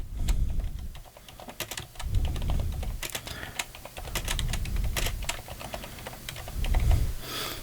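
Close computer keyboard typing, bursts of quick sharp key clicks with short pauses between runs, no voices.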